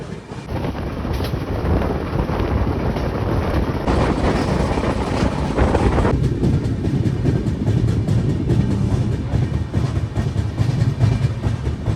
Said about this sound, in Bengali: ট্রেন কিন্তু আবার ছেড়ে দিয়েছে